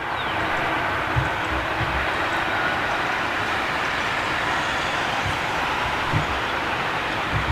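An airliner landing at Heathrow roars with derated reverse thrust, a steady, broad rushing rumble that holds at an even level throughout with no voices.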